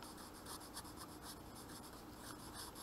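A pen writes steadily on paper for a few seconds, a continuous close, soft scratching with small rhythmic strokes, fairly quiet and without talk.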